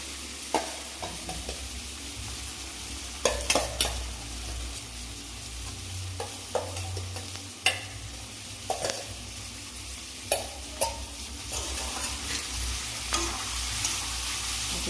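Prawns stir-fry in spice paste, with a constant low sizzle under repeated scraping and clanking strokes of a spatula against the pan in an irregular rhythm, close and moderately loud.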